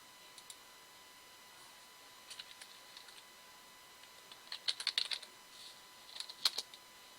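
Quiet keystrokes on a computer keyboard come in scattered short bursts, faint and fairly close, with no voices over them.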